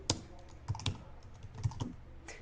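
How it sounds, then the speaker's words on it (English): Computer keyboard typing in short, irregular bursts of close, sharp key clacks, with a faint background of room noise. "excuse my typing here"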